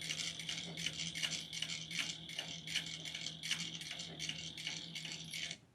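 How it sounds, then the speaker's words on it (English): Sewing machine top stitching a fabric pumpkin mug rug, with quick repeated rattling stitch bursts in an even rhythm, close but fairly quiet, stopping at the end. "I start top stitching."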